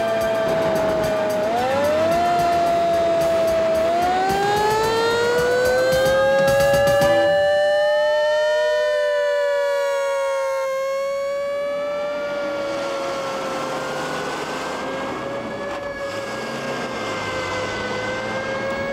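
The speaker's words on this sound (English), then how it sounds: "But the siren works, and that's good enough for me." A loud wailing fire truck siren rising and falling in pitch, sustained and steady, heard up close with no voices.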